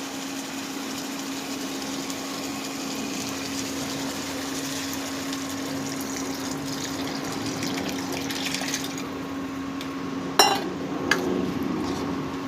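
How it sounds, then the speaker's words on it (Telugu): Tamarind rasam poured from a vessel into chicken curry in a home kitchen, a steady liquid pour and gush lasting several seconds, closing with a few sharp clinks of a utensil against the pot. "ఇప్పుడు దీన్ని మనం ఈ చికెన్ కర్రీలో వేసేస్తాం."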